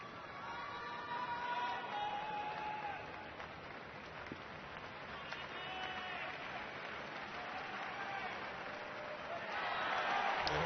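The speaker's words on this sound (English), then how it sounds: "The crowd is getting crazy." Dense crowd noise with steady applause and cheering fills a large stadium during the 2012 US Open tennis match between Andy Murray and Novak Djokovic, swelling louder near the end.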